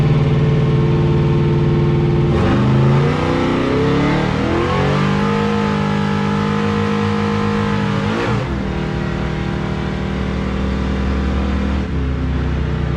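An LS-swapped Chevrolet S10 truck on a test run, its V8 engine revving hard in long, loud pulls, the pitch climbing and dropping twice over a steady, close exhaust roar with no talk.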